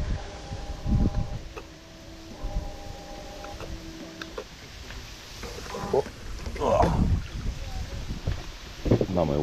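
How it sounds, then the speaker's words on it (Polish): A small boat comes across the water toward the bank during night eel fishing in August. A thin motor whine rises and stops in short bursts over wind buffeting and splashes, with people talking nearby. "Niech przypłynie do mnie łódka."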